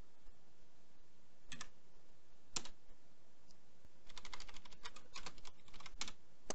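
Quiet keystrokes on a computer keyboard tap out a password at a terminal prompt: a few isolated clicks, then a quicker cluster of taps.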